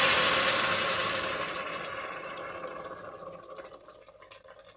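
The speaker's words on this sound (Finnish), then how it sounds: "Eli litra meni kiehuvaa vettä sinne." Boiling water, about a litre, being poured into a large pot while making a cheap Finnish pollock fish soup at home; a steady rushing pour that is loud at first and gradually fades over several seconds, with no talk.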